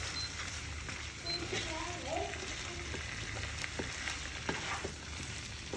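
Biryani ingredients, chicken among them, fry in a pan with a steady sizzle and scraping stir strokes, close and moderately loud, while a voice speaks now and then over the cooking.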